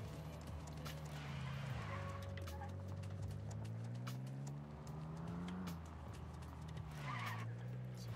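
A car engine in a video game drones and revs, its pitch climbing and dropping as the vehicle drives and then stops, with faint skidding and no talking.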